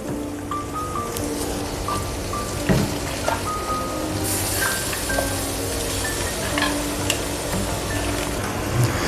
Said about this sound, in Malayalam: ഇനി നമ്മൾ പീസാക്കി വെച്ചിട്ടുള്ള ചിക്കനെ അതിനകത്തേക്ക് ഇടാം.